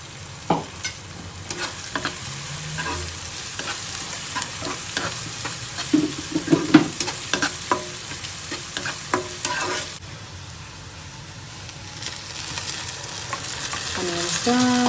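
Onions and cloves frying in a pan while being stirred, a sizzling bed broken by repeated scraping and clattering spoon strokes, close and fairly loud.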